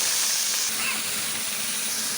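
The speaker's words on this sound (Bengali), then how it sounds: "তার জন্য কড়াইয়ে তেল দিয়ে দিয়েছি এবার আলুগুলোকে লাল লাল করে ভেজে" Potatoes fry in hot oil in a wok, a continuous close, even sizzling hiss with little variation and no talking.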